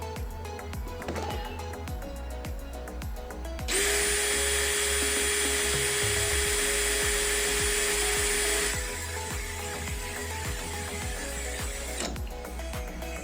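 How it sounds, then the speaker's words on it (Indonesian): A Dewalt DCD796D2 cordless drill runs in first gear on drilling mode, a steady high whine that starts after a few seconds of background clatter, holds for about eight seconds, then cuts off. "Di sini saya menggunakan percepatan nomor 1 dan modenya mode drilling."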